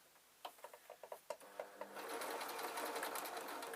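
A sewing machine stitches a suit pocket, its needle striking in a quick series of short, separate bursts before settling into a steady, continuous run close by.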